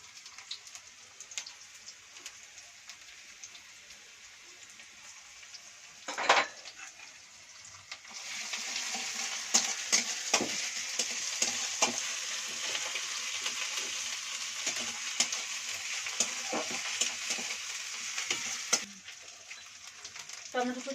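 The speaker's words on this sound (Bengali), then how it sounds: "এর মধ্যে আমি আদা রসুন বাটা দিয়ে দেবো।" Ginger garlic paste hits frying onions in a wok, a softer crackle first, then a louder surge of sizzling with stirring scrapes and pops that runs steadily before easing near the end.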